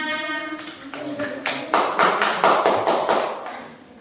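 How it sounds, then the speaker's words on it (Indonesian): A small group in a teacher-training classroom session claps briefly, scattered claps building into a short burst of applause after a voice fades at the start. "Kita berikan tepuk tangan."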